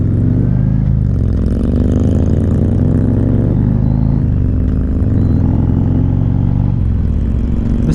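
A motorcycle engine revs steadily under the rider's throttle while riding on a road, a loud continuous drone that rises and falls in pitch several times.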